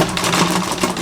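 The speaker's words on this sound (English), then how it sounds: "I'm going to stitch from here across to here and all the way down" A sewing machine stitches Ankara fabric for joggers in a quick, steady mechanical chatter, close and loud for about a second with no voices.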